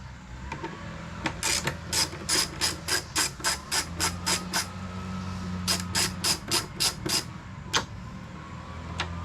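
Bolts being removed from a BMW S1000RR motorcycle's tail section, heard as a rapid series of sharp ratcheting clicks in two bursts, close and fairly loud over a low steady hum.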